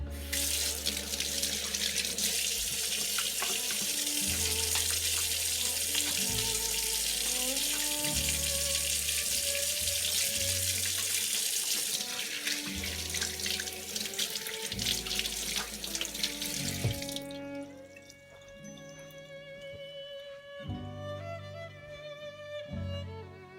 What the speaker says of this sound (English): Then, wash my hands.